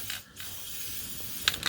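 Chain lube sprays briefly onto a Husky 701 motorcycle chain in a quick hissing burst, followed by a couple of faint mechanical clicks from the chain or wheel.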